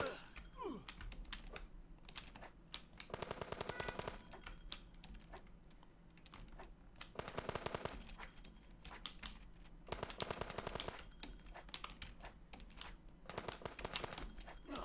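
Rapid bursts of gunfire in a top-down shooter video game, repeated rattling volleys of several seconds each separated by quieter gaps, layered over a steady low game hum.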